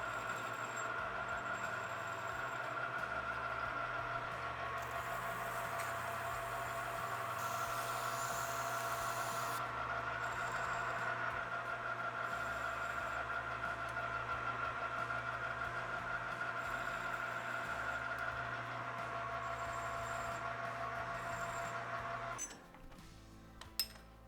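A lathe runs with a steady motor hum and whine while facing and chamfering a bicycle steerer tube, a continuous mechanical drone that cuts off near the end with a faint clink.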